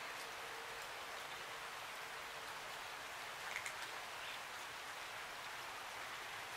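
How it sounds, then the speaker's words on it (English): Rain falls as a soft, steady hiss outdoors in the countryside, distant and faint, continuous throughout with no voices. "It's raining"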